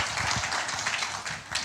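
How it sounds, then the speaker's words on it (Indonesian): A church congregation claps in a continuous burst of applause, moderately loud and slightly uneven, fading a little toward the end. "Tepuk tangan buat Tuhan."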